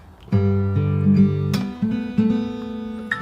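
Fingerstyle acoustic guitar plays the opening verse bar of a song, ringing chords punctuated by a few sharp percussive slaps of the hand or thumb on the low string, close and clear with no talking.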